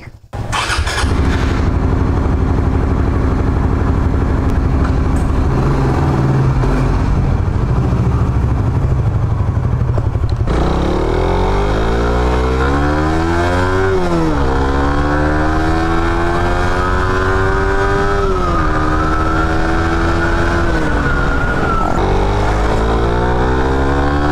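A Suzuki Raider 150 Fi motorcycle is ridden, its loud, close engine note rising and falling through repeated revs and gear changes, with a steady exhaust drone throughout.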